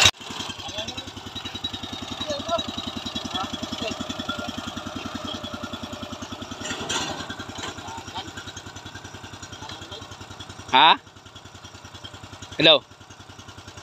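A newly bought kuliglig hand-tractor engine runs with a steady, fast thumping putter nearby, while people talk over it and two brief louder bursts break in near the end.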